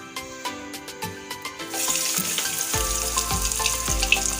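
Beetroot and potato vegetable chops are lowered one by one into hot oil in a kadai. Light clinks give way to a loud, steady sizzle with bubbling bursts as the oil rises, close and unbroken, with no talking.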